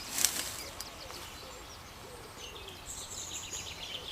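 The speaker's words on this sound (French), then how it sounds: "On a même la musique des pigeons." Pigeons coo outdoors in the background, soft hooting calls over faint ambient noise at an orchard grafting session, with a brief knock near the start.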